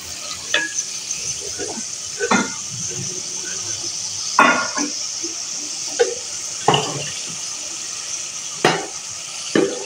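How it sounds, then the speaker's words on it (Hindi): Garlic and ginger paste frying in a pan with a steady soft sizzle, broken by sharp scraping and stirring clicks of a spoon at irregular intervals, close and moderately quiet. "तो ये लहसुन को मैंने 1 मिनट भून लिया"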